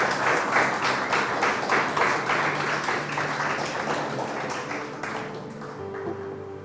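A church congregation applauds in praise of the Lord, a steady wash of many hands clapping with rhythmic pulses. Toward the end the clapping thins and a low sustained tone, likely an organ or keyboard, rises beneath it.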